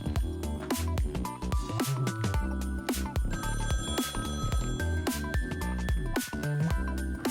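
A telephone ringtone sounds loud and continuous, a busy melodic ringing pattern that repeats throughout with no pause.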